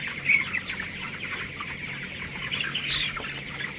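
A flock of 19-day-old broiler cockerels close by on wood-shaving litter makes a low, continuous murmur of clucks with a couple of sharper squawks rising above it.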